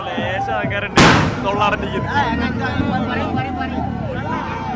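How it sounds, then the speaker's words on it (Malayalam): A single sharp firecracker burst cracks out near the start after a Spain–Argentina football match, followed by the busy chatter of a crowd talking throughout. "പടക്കമൊക്കെ പൊട്ടി തുടങ്ങിയിരിക്കുന്നു."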